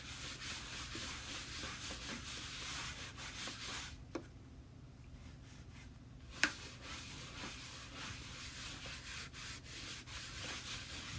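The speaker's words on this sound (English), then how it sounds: "I'm just gonna wax in circles, wax on, wax off" A brush applies wax in circular motions, making a faint, steady, continuous rubbing and scrubbing with short pauses and one or two light taps.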